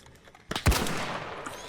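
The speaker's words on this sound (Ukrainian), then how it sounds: "Мене збоку, з іншої сторони, Сань, вообще стріляють" A single sharp gunshot cracks out in the shooter game ARC Raiders after a quiet moment, followed by a fading echoing tail, moderately loud with no talk over it.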